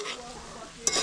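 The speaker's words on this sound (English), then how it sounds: "Let's stir it up." Ackee is stirred in a pot, a brief soft scrape with a faint sizzle under it and a small clink near the end.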